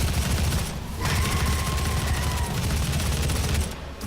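Loud, continuous bursts of gunfire fill the action of the video game Doom, with dense rapid shots and booming blasts that barely let up.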